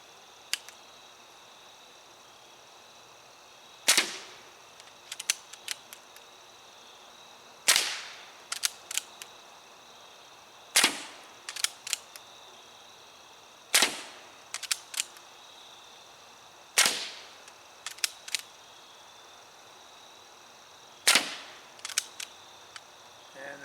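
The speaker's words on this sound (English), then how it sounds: "gotta make sure it, let's make sure it shoots" A Diana Chaser CO2 air pistol fires seven sharp, loud shots at steady intervals of roughly three seconds, each crack followed by a quick cluster of metallic clicks and rattles, with quiet between shots.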